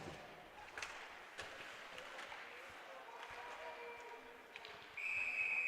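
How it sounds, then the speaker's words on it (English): At a high school JV ice hockey game, a referee's whistle blows sharply near the end over faint rink noise and scattered crowd sounds, shortly after a period begins. "Already a whistle."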